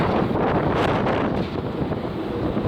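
Strong wind roars across the deck of the Celebrity Century cruise ship in Alaska, a loud, continuous buffeting gust noise battering the microphone with no voices.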